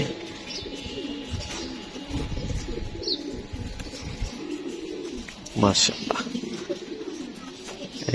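Racing pigeons coo repeatedly at the loft, close and clear, while someone speaks intermittently and a sharper call or clatter cuts through near the end.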